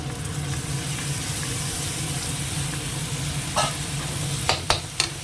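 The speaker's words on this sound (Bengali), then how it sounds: "এবারে মশলাটাকে একটু কষিয়ে নিই" Chili, tomato and garlic paste fries in a pan with a steady, close sizzle, and a few sharper stirring scrapes come near the end.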